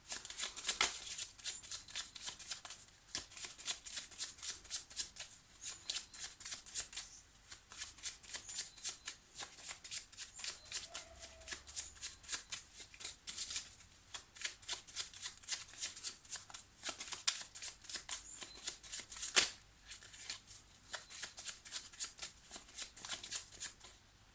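A deck of tarot cards is shuffled and cut over a long stretch at a French card reading, with dense, soft, continuous riffling and slapping that is close and steady, broken by a few brief pauses, with no voices.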